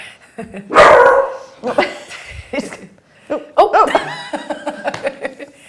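A dog barks several times in short, sharp bursts, mixed with people laughing and chuckling close by.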